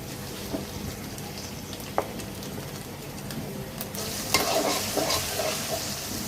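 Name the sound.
frying onions with ginger garlic paste, stirring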